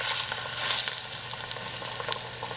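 Plantains frying in hot oil, a steady close sizzle with crackling pops and a brief louder burst near the start, no voices.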